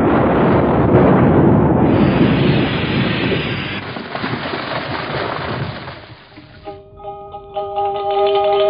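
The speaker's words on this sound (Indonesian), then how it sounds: "Aku seperti mendengar suara ledakan keras dari arah sana datangnya. Dan sepertinya suara ledakan pedang naga puspa." A loud, booming explosion from a dragon sword strike in an Indonesian radio drama, a long roaring blast that rumbles and fades before a ringing tonal tail.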